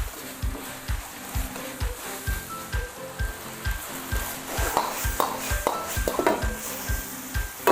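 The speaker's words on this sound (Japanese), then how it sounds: "これちょっともうちょっとしっかりとこう炒めてね" Minced meat filling for gapao rice stir-fried in a pan, with a steady rhythmic scrape and clank of a spatula against metal over a soft sizzle, close and continuous.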